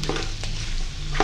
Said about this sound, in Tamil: இந்த கேரட் உருளைக்கிழங்கு முள்ளங்கி எல்லாம் ஒரு 2 நிமிஷம் நான் இதில் எண்ணெயில் வதக்கியிருக்கிறேன்